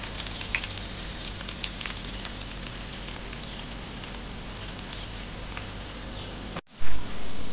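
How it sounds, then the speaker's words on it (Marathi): Sliced ivy gourd (tondli) deep-frying in hot oil, a steady close crackling and patter of bubbling oil that runs unbroken, then stops abruptly near the end before a louder shuffle of handling. "सो इथे आपली तोंडली व्यवस्थित फ्राय झालेली आहे"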